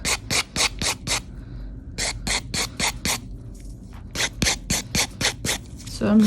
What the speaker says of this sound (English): So I'm now just smoothing out the surface, the whole nail.